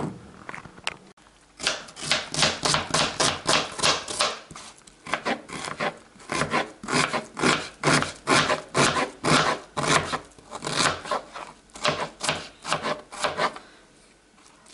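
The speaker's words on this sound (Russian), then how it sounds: "Луковицу я покрошила мелко." An onion is finely chopped with a knife on a board, giving close, rhythmic bursts of rasping strokes in steady runs with brief pauses between them, with no talking.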